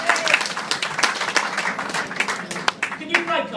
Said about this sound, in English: Big round of applause to Connor.